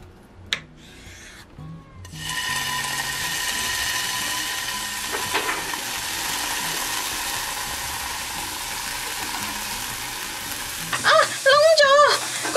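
Radish cake frying in a pan at a riverside picnic, a steady close sizzle with scraping and rubbing that runs on throughout, then a short burst of voices near the end.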